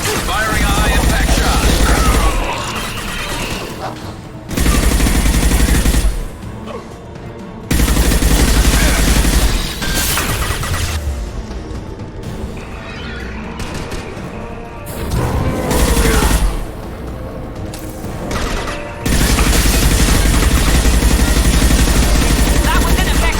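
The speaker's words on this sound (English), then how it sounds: "Firing a high impact shot!" High impact shots in the Mass Effect 2 video game come as repeated loud, heavy bursts of gunfire separated by short pauses, with voices speaking over the combat.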